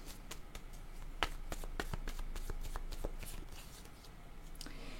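Playing cards shuffled and drawn for a card reading, a steady soft rustle with a few crisp card snaps, close and fairly quiet, no voices.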